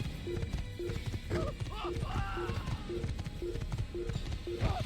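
A horse gallops in the Assassin's Creed video game with steady, rhythmic hoofbeats close up. A game soundtrack and other in-game sounds play underneath.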